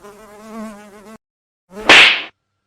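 A housefly buzzing close by, a steady droning whine for about a second, then after a short silence a louder, rougher burst of buzzing, with no voices.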